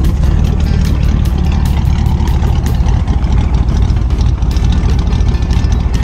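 An LS1 V8 idles loud and close with a tuned, choppy lope, its deep rumble steady and unbroken throughout with no talking.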